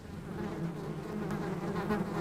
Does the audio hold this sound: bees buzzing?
yes